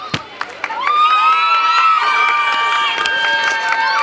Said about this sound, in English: Cheer your winners. Cheer them up.